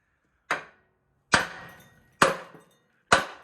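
Four sharp, ringing hammer blows strike a 1972 Chevrolet C10 engine crossmember, spaced almost evenly a second apart, each a loud metallic crack followed by a brief decay, close up with no voices.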